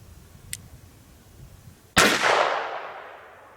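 A single loud gunshot firing a 30 grain Hornady VMAX round from a revolver at a car door, a sharp close crack with a long rolling outdoor echo, preceded by a faint click.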